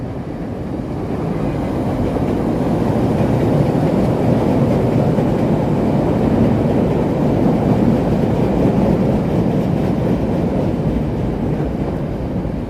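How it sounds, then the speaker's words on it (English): A Chicago Brown Line elevated train passes around the Loop above Wabash Avenue, a loud sustained rumbling roar of wheels on steel track that holds steady for the whole stretch, close by with no talking. "Brown Line train heading around the loop there."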